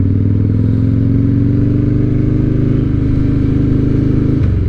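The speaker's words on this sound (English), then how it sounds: "Been a while since I've ridden a bike with apes on it." A Harley motorcycle with ape hanger handlebars is ridden around a park, its engine a loud, steady, close rumble that shifts slightly in pitch, with a sudden change near the end.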